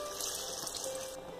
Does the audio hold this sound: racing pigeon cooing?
no